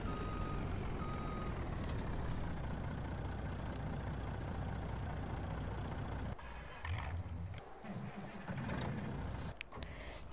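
Farming Simulator 19 gameplay with a tractor hooking up a trailer: a steady engine drone and rumble throughout, thinning out partway with a few short mechanical clunks and beeps, no talking.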